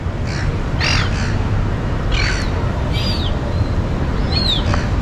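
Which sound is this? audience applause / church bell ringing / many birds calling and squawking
many birds calling and squawking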